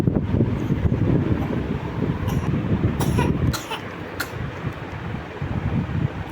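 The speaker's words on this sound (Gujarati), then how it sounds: "આ શું ઉધરસ આવે છે" A few sharp coughs break through steady rushing wind noise, loud and close to the microphone.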